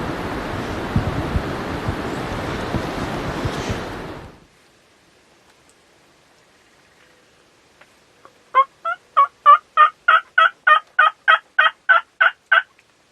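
A wild turkey gobbling in Nebraska during a hunt: a rush of wind noise, then silence, then a loud rapid gobble of about a dozen quick pulses at close range.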